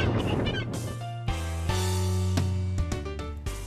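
Harsh, honking gull calls sound repeatedly and close by, in loud overlapping bursts, in Devonport near Auckland.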